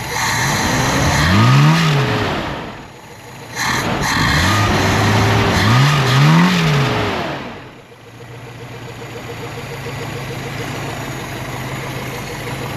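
Toyota 22R four-cylinder engine in an old pickup truck, recently revived after a fuel tank problem, idling close by and revving up in a few rising and falling sweeps before settling back to a steady idle.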